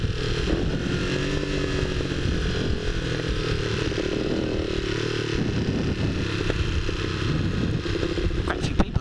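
A Honda CX motorcycle engine runs continuously up close, a loud steady rumbling drone with clattering texture and no pauses, ending with a couple of sharp clicks.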